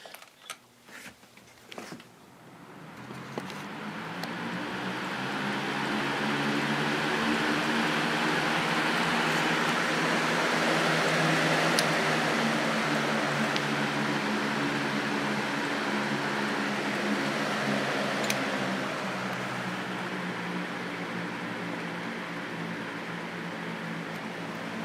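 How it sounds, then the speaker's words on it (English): A Hurricane box fan in a dark room starts up with a few clicks, then spins up into a steady, fairly loud whooshing hum with a low motor drone that holds evenly to the end. "Hurricane box fan."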